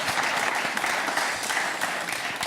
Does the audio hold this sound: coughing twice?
no